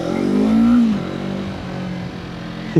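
A 2026 Yamaha MT-03 motorcycle engine revs up while being ridden, its pitch climbing to a peak and then dropping back as the throttle eases off, close and fairly loud.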